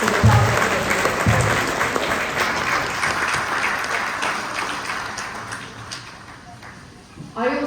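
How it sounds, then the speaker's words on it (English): Dense audience applause fills the room for the participants of a program, loud and steady at first, then gradually thinning and fading before a brief final burst. "could we please give a huge round of applause to the participants of this"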